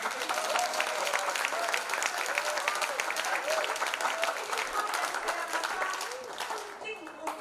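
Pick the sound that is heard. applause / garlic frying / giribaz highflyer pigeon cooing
applause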